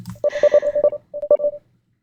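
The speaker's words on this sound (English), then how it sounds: "That's Peter's probably texting." Phone text message notification in a horror video game set in a hotel: a quick burst of about ten bright, evenly spaced electronic beeps in two short runs, loud and close, with no voices.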